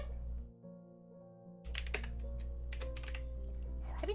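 Rapid clicking of computer-keyboard keys during a Dungeons & Dragons stream session, a steady flurry of close, dry taps over a low constant hum, briefly pausing before resuming.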